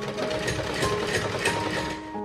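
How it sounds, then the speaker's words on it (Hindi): A sewing machine runs steadily, stitching along the folded edge of a warm winter cap for a small child, with a dense, continuous mechanical whir and no talking. "तो अब इसे हम यहाँ पे रख के उल्टी तरफ और सिलाई करते जाएंगे"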